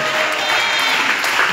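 A church congregation applauds and cheers loudly in a continuous, dense wash of clapping and voices throughout.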